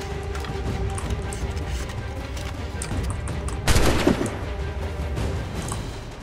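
Gunfire rings out in the Assassin's Creed 3 video game: a loud, sharp volley bursts out partway through, over a constant din of battle noise.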